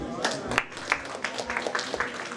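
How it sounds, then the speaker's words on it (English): Scattered applause at a book launch event, with individual claps popping out at an uneven rhythm under ongoing speech. "A round of applause as we take our seats, please."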